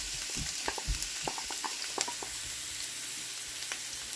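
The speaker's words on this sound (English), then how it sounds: "Once your oil is hot, add your onions" Onions frying in hot oil over medium-high heat, a steady broadband sizzle with scattered soft pops and clicks from a stirring utensil, close and continuous with no talking.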